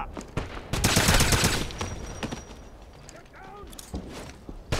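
Submachine gun fire in the shooter game Wolfenstein, a loud burst of rapid shots early on, then scattered single shots and clatter under the game's ambient noise.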